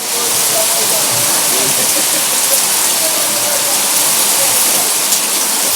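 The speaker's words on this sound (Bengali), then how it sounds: "বৃষ্টির অবস্থা শুনতেই পাচ্ছ যে কি পরিমাণ বৃষ্টি পড়ছে" Heavy rain pours down steadily in a dense, loud, continuous hiss with no break, close and enveloping throughout.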